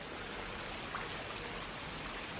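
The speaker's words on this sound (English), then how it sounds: "It's raining quite a bit out there." Steady rain hisses continuously under a pine tree outdoors, a soft, even wash of falling water without pauses or voices.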